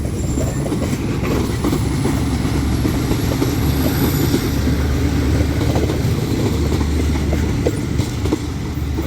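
Thai passenger train 302, bound for Bangkok Hua Lamphong, rumbles past close by, a loud, steady low roar of wheels on rails with faint high squeals, continuous throughout.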